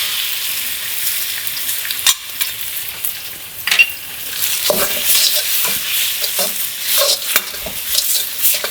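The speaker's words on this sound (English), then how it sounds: "Now, star of the egg fried rice, eggs going in." Beaten eggs sizzle in a hot pan for egg fried rice, a steady close frying hiss broken by repeated scraping and stirring strokes, with no talking.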